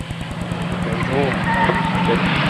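Race cars at a Kings Park Speedway fall enduro roar past together in a loud, continuous engine drone with rapid pulsing, while an announcer talks over the track noise.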